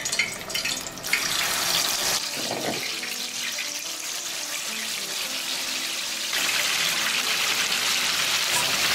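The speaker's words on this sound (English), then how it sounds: "The oil is hot, and so we can go ahead and fry our kelewele" Plantain kelewele pieces sizzling steadily in hot frying oil, a dense continuous crackle and hiss that swells after a brief quieter moment, with no talking.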